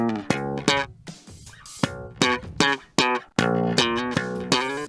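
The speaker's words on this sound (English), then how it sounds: "we recorded a super thin, plucky bass with heaps of like finger plucking" A thin, plucky finger-plucked electric bass line played solo, a string of short bright percussive plucks in a steady rhythm with brief gaps, clear and close with no voices.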